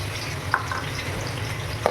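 Garlic paste frying in an oiled pan for chilli chicken, a steady close sizzle and crackle with two sharp clicks of a spoon against the pan.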